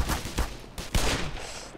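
Gunfire in the Black Mesa shooter game, a run of sharp close shots in quick succession, several loud cracks spaced irregularly with dense noisy bursts and no talking.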